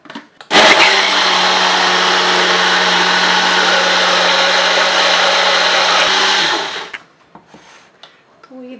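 A kitchen mixer grinder whirs loudly and steadily for about six seconds as it churns milk and cream kulfi mixture in its jar, then winds down into quiet.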